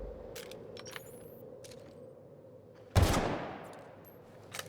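A silenced sniper rifle fires once in The Outer Worlds, a single muffled crack with a tail decaying over about a second, set against a steady hum and scattered soft clicks.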